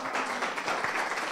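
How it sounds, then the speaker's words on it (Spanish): A short burst of crowd applause, steady and dense, with scattered claps blending into a continuous patter. "Un aplauso."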